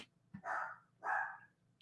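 Dogs inside a house give two drawn-out barks about half a second apart. They sound moderately distant and fairly soft, with no talking over them.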